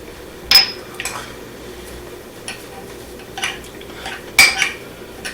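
A utensil clinks against a bowl in a few scattered taps and scrapes while black pepper, garlic powder and red pepper seasoning are stirred together for Asiago cheese bread, close and fairly quiet over a low background hum.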